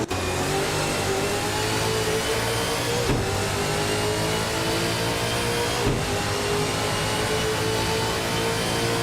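Cars racing in a video game, one of them a 2013 Nissan Altima, their engines droning and revving steadily and loudly throughout with no letup, over a dense, constant roar of motors.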